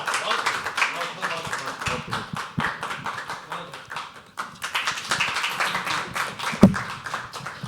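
Sparse, uneven hand claps come from a small audience at a live poetry open mic, tapping out under continuous talking.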